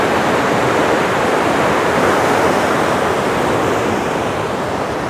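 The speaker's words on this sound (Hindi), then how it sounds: "साउंड आ रहा है क्या पानी का?" Continuous close roar of rapidly flowing water in the Indira Gandhi Canal, broadband and steady like a channel surging past, with faint wind buffeting underneath.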